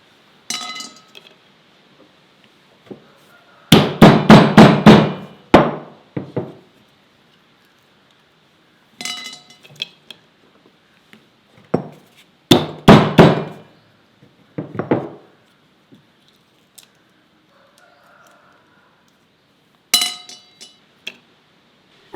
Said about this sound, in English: take 6 to 7 soap nuts, break them open, remove the seeds,